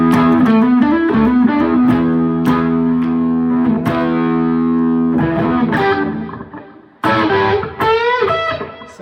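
An electric guitar played through distortion pedals rings out in loud, sustained chords and bent notes, with brief gaps where the sound drops and restarts.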